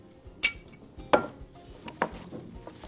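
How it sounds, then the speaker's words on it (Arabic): A spoon clinking and scraping against a bowl while stirring a kofta mixture of spices, pepper, salt and a little oil; three or four distinct sharp knocks over soft scraping, close and fairly quiet. "ونقوم مقلبين الخلطة ديت كلها مع بعضها"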